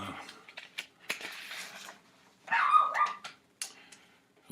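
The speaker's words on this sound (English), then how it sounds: "The dog is barking in the other room." Dog barking in another room, a series of muffled, distant barks and yips in short bursts separated by quiet gaps.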